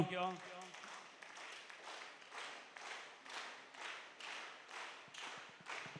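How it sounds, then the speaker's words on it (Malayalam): A church congregation claps along to a song in a steady rhythm of about one clap per half second. The hand claps sound moderately close, and a voice speaks briefly at the start. "നമുക്ക് കൈയടിച്ചുകൊണ്ട് ഒരു പാട്ട് കൂടി പാടാമെന്ന് എനിക്ക് തോന്നുന്നു. കൈയടിച്ച് തുടങ്ങിക്കോ."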